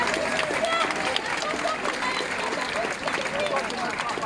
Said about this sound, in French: Je vous demande d'applaudir Yves